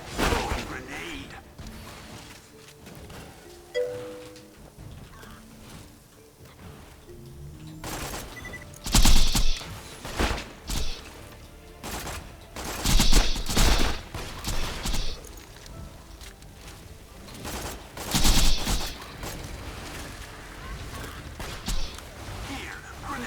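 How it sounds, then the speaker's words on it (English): Borderlands 2 video game combat: bursts of rapid gunfire and sharp blasts erupt in clusters over the second half, loud and close, after a quieter stretch with scattered game effects, with someone talking at times. "Throwing grenade."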